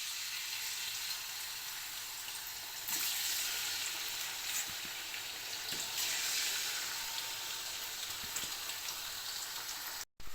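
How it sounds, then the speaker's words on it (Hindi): A kilo of chicken fries on high flame in an iron karahi while being stirred: a dense, steady sizzle and crackle that stays loud throughout and cuts out abruptly just before the end. "इसे स्टर करते हुए मैं इसको फ्राई करूँगी।"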